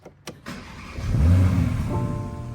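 An overheating Porsche/Audi EA839 3.0-litre turbo engine cranks briefly and catches, settling into a steady idle hum close by, with no one speaking.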